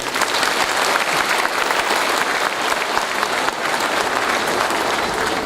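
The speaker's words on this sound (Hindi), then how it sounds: "मैं चाहूंगा उनके लिए एक बार जोरदार ताली बजाएं" Loud applause from a large audience at a Forever Living Products business event, dense continuous clapping that stays strong and even throughout without any voices.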